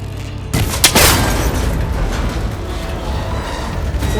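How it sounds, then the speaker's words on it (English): A cable connector shot and shattered in Horizon Forbidden West: a sharp, loud crack and boom near the start, followed by a rumbling burst of debris and clattering mechanical noise that fades into sustained ambient wind over several seconds. "It should break if I shoot it."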